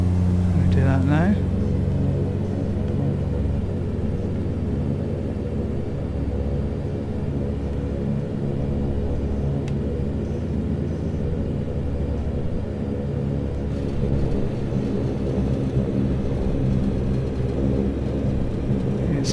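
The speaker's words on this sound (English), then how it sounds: "I'm going to bring the power back to idle." Twin turboprop engines of a Saab 340 in the X-Plane 11 flight simulator drone steadily as power comes back to idle, a loud continuous low rumble with a brief whine change near the start and no pause throughout.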